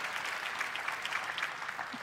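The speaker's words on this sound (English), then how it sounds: "clap if you want" Applause from a large keynote audience at a developer conference, a steady dense wash of clapping heard from a distance, fairly faint and even throughout.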